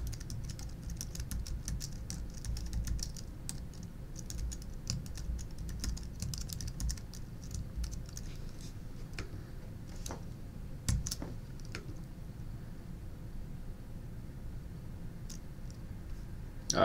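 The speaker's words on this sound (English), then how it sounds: "let's go type" Continuous typing on a computer keyboard during live coding of ExpressJS routing, a steady patter of close key clicks with occasional louder taps and no voices.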